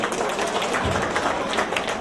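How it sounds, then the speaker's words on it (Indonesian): Seminar audience at a KAGAMA food sovereignty event claps together in a dense, steady wash of applause that stays even and fairly close throughout. "Tepuk tangan untuk kejayaan Indonesia."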